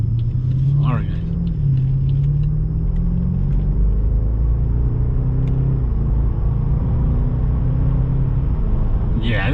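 A 2014 BMW 650i Gran Coupe with 100k miles accelerating, heard from inside the cabin as a loud, steady engine rumble with rising drone tones, while people talk over it.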